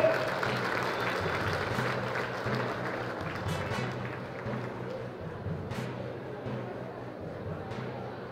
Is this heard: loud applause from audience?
yes